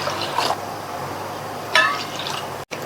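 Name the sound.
water poured into ground powder in vessel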